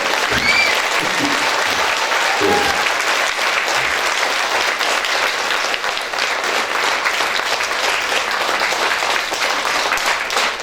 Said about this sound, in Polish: Jeśli dacie chociaż ślad oklasków dla Andrzeja Poniedzielskiego, to jest szansa, że zostanie